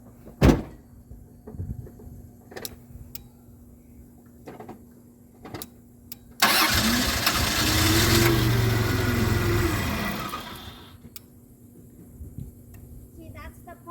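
A 1993 Dodge Caravan engine with a fuel line pump and relay problem cranks and catches around the middle, running roughly for about four seconds before dying back to quiet, with a few sharp knocks before it.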